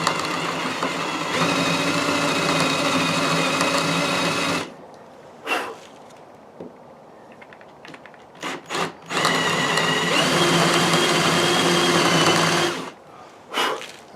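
A drill bores a hole into a small log. The motor gives a loud, close, steady whine in two long runs, with brief knocks and handling noises in the pause between them.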